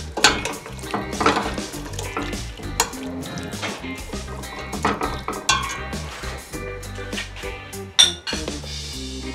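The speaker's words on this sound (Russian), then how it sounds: "Сейчас это все, эту массу все перемешиваю." Carrot and onion in oil are stirred in a pot for plov, with a spoon clinking and scraping against metal and a soft sizzle beneath, in irregular close strokes.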